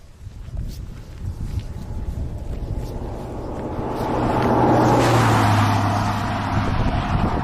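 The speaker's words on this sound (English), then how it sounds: "the sound of cars coming behind us" A car approaches from behind, its engine and tire noise swelling to a loud pass, with wind and footsteps underneath.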